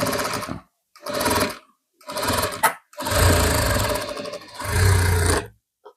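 Sewing machine running in short bursts while stitching the corner of a blouse, several separate whirring runs with brief pauses between them, close and fairly loud.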